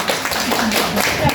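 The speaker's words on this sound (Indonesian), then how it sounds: "tepuk tangan dulu untuk kita semua" Audience in a school hall clapping hands for a brief moment, a dense, fairly loud patter of claps with a voice speaking over it.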